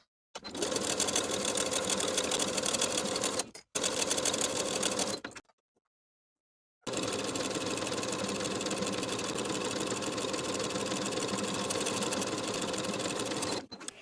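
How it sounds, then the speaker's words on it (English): A sewing machine runs in fast, steady bursts stitching the main and lining pieces of a knit jumpsuit bodice, stopping briefly twice and pausing about a second and a half before a long final run. "we're going to sew the main and lining pieces together, edge stitching with basting stitches along the bottom raw edge"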